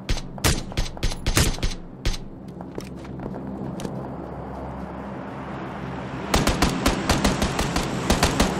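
Bursts of automatic gunfire in the PUBG video game, rapid sharp cracks in clusters at the start and again near the end with a quieter rumbling gap between, loud and close.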